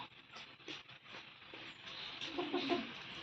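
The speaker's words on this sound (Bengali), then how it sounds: "দুটো মোরগ দুটো মুরগি আছে।" Two roosters and two hens feeding at a village home give soft, intermittent clucks, fairly close but quiet, with no talk.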